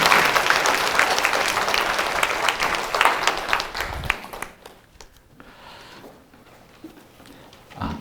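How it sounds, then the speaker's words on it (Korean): An audience at a Korean Catholic charismatic prayer-meeting lecture gives sustained applause to welcome a priest, full and dense for about four seconds, then dropping off into a quiet room with a few faint rustles. "박수로 맞이해 주시면 감사하겠습니다"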